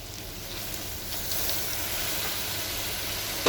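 Fish and spices frying in a pan for achard de palmiste with dorade, white vinegar just added, giving a steady, even sizzle and hiss at moderate volume with no voices.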